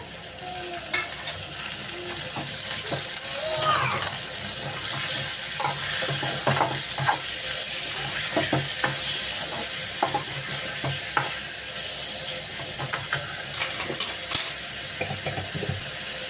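Prawns fry with golden brown onions in a pan, producing a steady, close, continuous sizzle with occasional stirring scrapes throughout.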